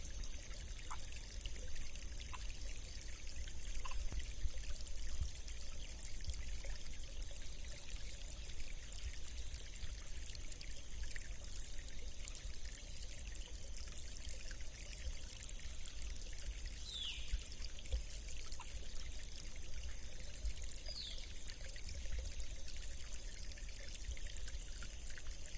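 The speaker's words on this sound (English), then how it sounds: "let us enjoy the flow of water from this new perspective" A natural stream's water flows in a soft, continuous rushing wash, faint and steady, with no voices over it and only a couple of tiny high chirps breaking through.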